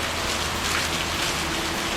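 Steady rain falls outdoors on a farm in Thailand, a dense, even hiss of drops on surfaces that stays loud and unbroken throughout, with no voices.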